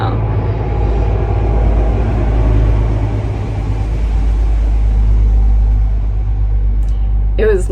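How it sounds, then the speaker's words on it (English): A loud truck passes close by on a neighborhood street with nearby construction, a heavy continuous low rumble and engine drone filling the whole stretch, with some speech-like sound mixed in. "There's a loud truck about to go by."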